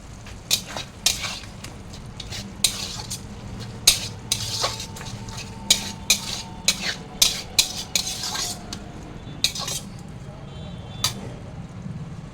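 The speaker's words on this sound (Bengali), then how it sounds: "সামান্য একটু ঘি আর একটু গরম মশলা দিয়ে নাড়াচাড়া করে নামিয়ে নেব" A spoon scrapes and clinks against a pan as mankochu ghonto, a thick Bengali taro-root dish, is stirred with a little ghee and garam masala; the knocks come close and irregular over a low simmering bed, with no talking.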